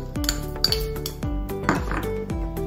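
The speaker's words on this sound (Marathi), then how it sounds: "हे सगळं मिक्स करून घ्यायचं" Chopped tomato, capsicum and cabbage for paneer cutlets being mixed in a bowl, a close series of ringing metallic clinks and knocks from a spoon against the bowl, repeating roughly every half second with no voices.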